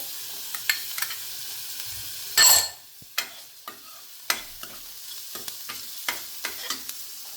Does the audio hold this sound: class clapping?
no